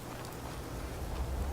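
Steady rainfall in Fallout 4, a dense even hiss of drops with a low rumbling undertone, moderately loud and continuous with no voices.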